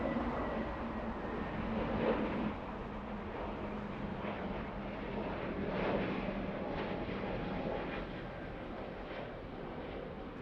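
Volaris airliner engines at Los Angeles International Airport give a steady, broad roar that holds for the whole stretch, swelling slightly at moments, with no voices.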